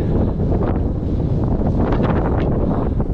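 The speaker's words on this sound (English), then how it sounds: "bit of a headwind, so it's quite blowy." Headwind buffets the microphone of a cyclist riding a road bike, a loud, constant low rumble with gusty swells and no clear voice over it.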